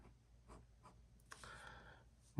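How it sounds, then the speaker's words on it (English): Pencil lines scratching across paper while sketching a car design, a car-design drawing being made by hand: a few soft separated strokes, then a longer, brighter continuous scribble, quiet and close with no talking. "I do find it advantageous to draw with a pencil sometimes, because it does give you more"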